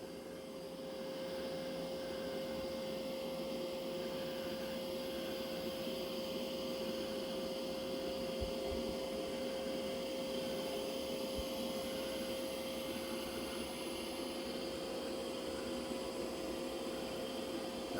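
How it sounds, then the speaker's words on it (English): A Mova V70 Ultra robot vacuum cleaner vacuums with a steady, close whirring hum and a constant high whine, unbroken and alone, with a few faint bumps. "Now it seems to be vacuuming that area."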